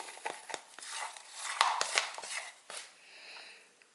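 Putty compound for a keyboard build, being stirred and packed with a popsicle stick, gives a close run of quick tapping, scraping and squishing strokes, uneven in rhythm, with no talking.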